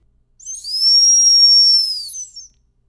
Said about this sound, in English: Next, we can try the red dog whistle,